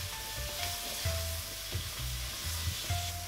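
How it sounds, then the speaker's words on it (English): Okra sizzles gently in a pan while a utensil stirs it in repeated scraping strokes, the soft, steady frying hiss carrying close and fairly quiet throughout. "Now all we need to do is just give it a good stir."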